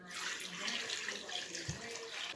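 Water pours steadily into a pot while making syrup for canning peaches, six cups going in with sugar for a double batch; a continuous close splashing stream with no talk over it.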